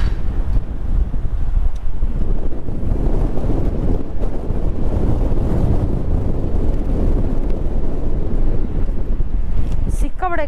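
Strong wind buffets the microphone at Gandikota fort in Andhra Pradesh, a loud, continuous rumbling roar throughout with faint voices underneath.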